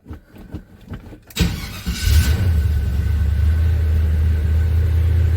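A 1978 Chevy C10 pickup truck engine cold-starts after a long idle period: a brief starter crank, then the engine catches with a loud rumble and settles into a steady, deep idle.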